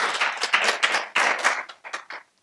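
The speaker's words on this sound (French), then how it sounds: "On peut applaudir Julien, une belle lecture quand même." A church congregation claps together after a Bible reading, a quick burst of applause from a modest crowd that tapers off and stops within a couple of seconds.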